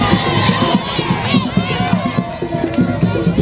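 A dense crowd clamours and cheers around a minister at a public welcome in Mali, voices shouting and whooping together in a loud, sustained roar, close and busy.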